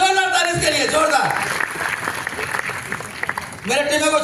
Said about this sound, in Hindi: जोरदार जोरदार ताली इसके लिए, जोरदार